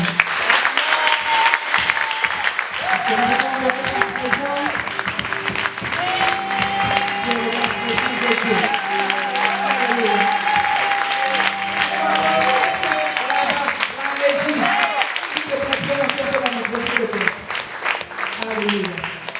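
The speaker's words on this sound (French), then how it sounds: "est-ce que nous pouvons acclamer Jésus ce soir" A church congregation applauds and cheers for Jesus during a French-language worship service, loud sustained clapping and shouting that fills the clip, with a voice and music-like tones running underneath.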